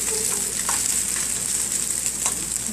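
Chow mein noodles with beef and tofu stir-fry in a hot wok, giving a steady loud sizzle with occasional stirring scrapes and clatter throughout.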